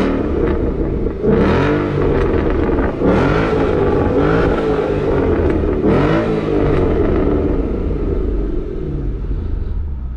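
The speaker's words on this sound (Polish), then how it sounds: "w samochodzie jest założony aktywny wydech z MG Motorsport, gdzie tutaj mamy od niego magiczny guzik" Ford Mustang GT with a 5.0 V8 and an MG Motorsport active exhaust opened, revved hard in close repeated bursts over a deep, loud idle rumble, with no talking.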